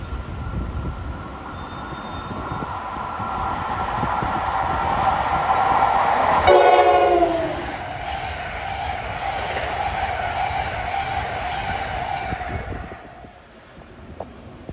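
Erie-Lackawanna heritage ALP-45DP locomotive 4519 roars along the Northeast Corridor at Linden, New Jersey, its loud steady rumble broken by one short horn blast before the passing train fades away.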